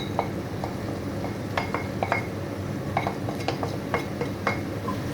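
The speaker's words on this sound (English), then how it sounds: "And give it a good stir." A spoon stirs spice powders, chili and coriander, into a curry mix in a pot, giving repeated light metallic clinks and scrapes at an irregular rhythm, close and fairly quiet, with no talk.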